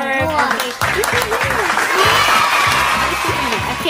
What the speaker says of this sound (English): Let's clap our hands to Ken.